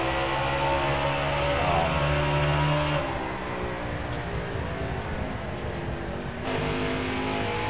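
A NASCAR race car engine in NASCAR Heat 4 at Richmond drones steadily and loudly throughout, its pitch shifting slightly as the car speeds up and eases off.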